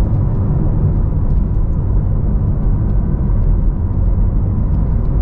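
A Porsche Taycan Turbo electric car, a 2021 model, accelerates hard in Sport Plus mode, giving a steady, loud low rumble of road and cabin noise with no distinct engine note.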